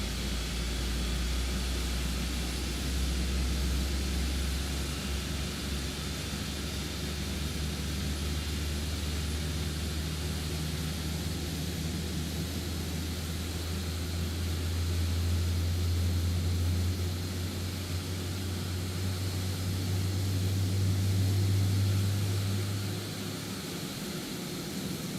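Simulated Rolls-Royce Trent 7000 engines on a Toliss A339 airliner in X-Plane 12 drone steadily, a deep rumbling bass under a broad airy roar that swells and eases over time, with no speech.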